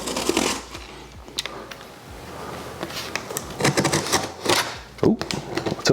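Scissors snip and tear through thick packaging tape on a camera bag box, making irregular close crackling, ripping and rustling bursts with brief pauses between cuts.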